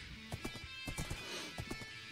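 Minecraft horse, its hooves clopping in uneven bursts along with a few whinnying neighs, close and fairly clear with no talking.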